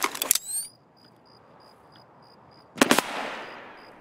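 Gunfire in the Escape From Tarkov video game, Shoreline map: a rapid loud burst at the start, then near silence with faint periodic beeps, then a second sharp burst of shots trailing into a decaying echo.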